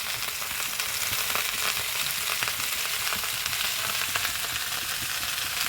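Jackfruit pieces fry with salt and turmeric in a pan, giving a steady close sizzle of hot oil that keeps a constant level throughout, with faint scraping crackles now and then and no voices.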